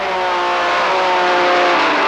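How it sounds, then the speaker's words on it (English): Triumph Roadster race car at a racetrack, its engine holding a steady loud roar that builds slightly in intensity, with a faint tire squeal underneath. "he looks over the back of Ken Slagle's Triumph Roadster"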